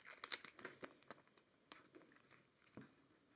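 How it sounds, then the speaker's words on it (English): Backing being peeled off a metal stamping guide, a few soft crinkling and tearing sounds close and quiet, with small scattered clicks. "So I'm just going to peel this off."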